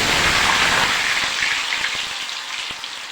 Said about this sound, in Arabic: حمري بقى شويه بطاطس